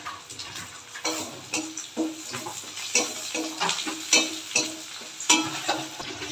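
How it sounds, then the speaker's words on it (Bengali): Crushed garlic and onions fry in oil tempered with nigella seeds, a steady sizzle broken by sharp scraping stirs of a spatula against the pan at close range. "থেতো করা রসুনটা দিয়ে দিলাম।"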